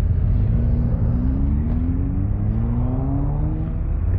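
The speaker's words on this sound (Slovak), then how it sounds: "Tam idú auta" Cars drive past on a road, a steady low rumbling engine and tyre noise with slowly rising pitch, close and fairly loud throughout.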